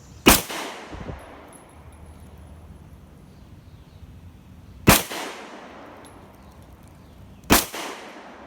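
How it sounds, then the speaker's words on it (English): Three Tokarev pistol shots fired at a steel plate from seven yards, each a sharp loud crack with a ringing tail, spaced far apart with quiet gaps between them. "Tokarev first, left plate, 3 shots, 7 yards."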